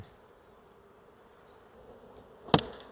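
Bees buzz faintly and steadily around an open hive, with one sharp close-up burst of sound near the end.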